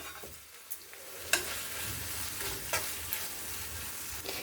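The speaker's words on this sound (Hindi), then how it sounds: "अब हमने जो प्याज और हरी मिर्च सालू फ्राई करके रखा हुआ था उसे डाल देंगे। इसे डाल के मिला लें।" Fried onion and green chili are stirred into a sizzling pan for a besan (gram flour) vegetable dish. Steady frying hiss is broken by occasional scraping clinks of the spoon, close and alone.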